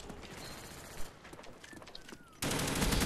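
Gunfire in Call of Duty: Black Ops Gun Game, a scattered run of shots followed by a sudden loud, dense burst at close range filling the end of the moment; no talking.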